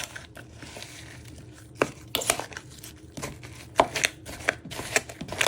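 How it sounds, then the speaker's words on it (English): Toffee apple filling for buns is stirred and mashed down with the back of a fork, giving close, irregular scraping clicks and soft squelches against the pan, with no talking. "you just want to give it a good stir and mash down"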